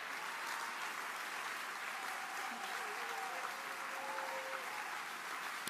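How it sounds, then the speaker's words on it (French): A crowd at a summer gathering of ecologists applauds continuously, a steady, evenly sustained wash of clapping heard from a distance, with a faint voice briefly over it. "applaudissez plus fort pour qu'ils osent monter"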